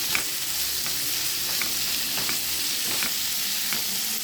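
Ginger garlic paste frying in a hot pan, giving a steady, close sizzle throughout with a few soft stirring clicks at regular intervals and no voices.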